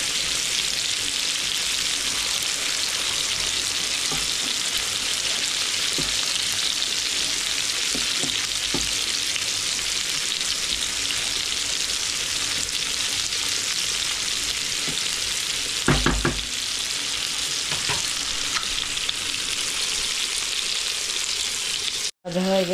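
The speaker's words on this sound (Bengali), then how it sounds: "এখানে আমার মাছ ভাজা হচ্ছে, নতুন ফ্রাই প্যান আমার" Pomfret fish frying in a new frying pan, a steady bright sizzle of hot oil running continuously up close, with occasional soft clicks and a brief thump near the end.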